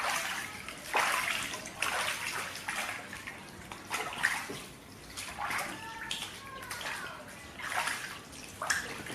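Water splashes and sloshes in repeated bursts as body scrub is rinsed off skin, close and fairly quiet, with irregular pours and trickles.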